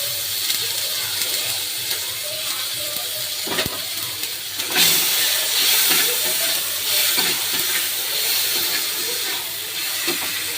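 Tomatoes tipped into hot mustard-style frying oil with nigella seeds after hilsa fish was fried, giving a steady broadband sizzle and hiss that swells a few seconds in and continues close and loud throughout.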